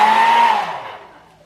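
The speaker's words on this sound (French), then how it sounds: "Et là, je mets le sèche-cheveux et je sèche." A hair dryer blows on wig glue while an HD closure wig is installed, giving a loud, close whirring rush that fades away over about a second and a half.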